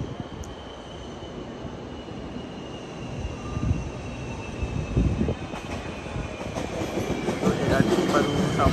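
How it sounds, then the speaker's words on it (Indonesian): A light rail (LRT) train rumbles into a station, its noise building steadily, with a faint high-pitched whine and some clatter toward the end. "LRT baru sampai."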